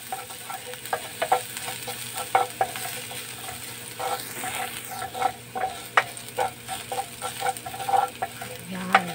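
Garlic sautéing in a pan for mung bean and string bean dishes gives a steady close sizzle, broken by repeated sharp clicks and scrapes of a utensil stirring against the pan.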